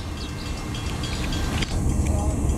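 Norfolk Southern L38 local freight train passing close, a loud continuous low rumble of rolling cars and wheels on rail filling the whole moment.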